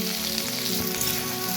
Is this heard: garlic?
yes